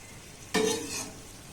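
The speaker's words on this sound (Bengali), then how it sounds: "এবার এগুলোকে উল্টে পাল্টে একটু লাল লাল করে ভেজে নেব।" Snacks dropped into hot oil in a pan and stirred to brown them, a sudden loud sizzle that settles into steady frying, no voices.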